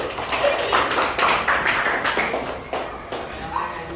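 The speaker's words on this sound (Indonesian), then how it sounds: "Bantu tepuk tangan aja ya" A sixth-grade classroom in Indonesia claps along, with sharp irregular hand claps and taps ringing out over murmured voices in the room.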